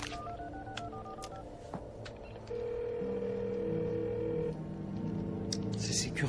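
A telephone number is keyed in as a quick series of short, distinct touch-tone beeps, followed by steady, longer ringing or line tones in a quiet indoor scene.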